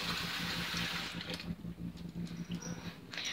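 Hot tap water runs steadily into a cat's water bowl at close range, a continuous hiss and splash that thins and sputters toward the end.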